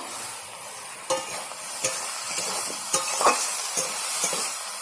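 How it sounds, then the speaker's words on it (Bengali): Shrimp fried with turmeric and chili powder, cooked with greens, sizzles steadily in a pan, with irregular clinks and scrapes from stirring now and then, close and without talk. "নাড়িয়ে নিচ্ছি, ভাজতে থাকুক।"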